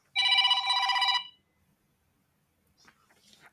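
A telephone rings once with a bright, trilling electronic burst lasting about a second, then silence, followed by faint rustling as the phone is picked up.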